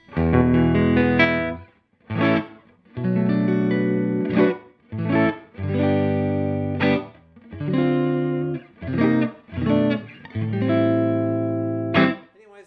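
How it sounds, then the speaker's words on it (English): Undistorted electric guitar plays a series of strummed chords, each ringing briefly before the next, with a bright, clear tone and no talking. Played without an Ibanez TS9 Tube Screamer pedal engaged, reverb off. "That's the clean sound."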